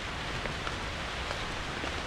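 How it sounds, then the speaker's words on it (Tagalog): Soft rain falls on a rainy morning at a small farm in Zamboanga, making a quiet, steady patter with faint scattered drops. "Yun, maulan na umaga."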